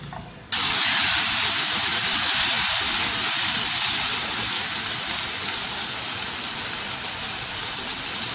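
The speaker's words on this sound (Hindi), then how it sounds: "इन मटरों को भी 1-2 मिनट अच्छे से भून लेंगे" Green peas dropped into hot oil in a pan for a Pakistani aloo matar curry, a sudden loud sizzle starting after a brief pause and hissing steadily to the end.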